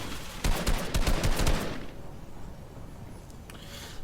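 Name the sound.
gunfire in a Fortnite video game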